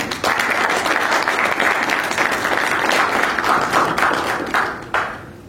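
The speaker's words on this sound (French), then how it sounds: "Je vous demande d'applaudir fortement pour vous." Loud, sustained applause from a gathered audience at a political address, dense clapping that fades near the end before a final burst.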